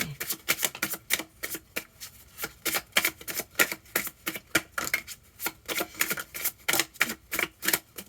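Tarot cards being shuffled and drawn by hand, a steady run of crisp, close riffling flutters repeating in quick bursts for the whole stretch, with no talking over it.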